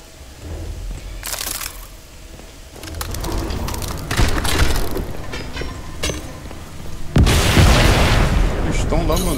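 Bomb explosions from the video game Crysis 2 thunder as loud booming bursts amid gunfire and battle noise, with a big blast near the end, while people talk over the action.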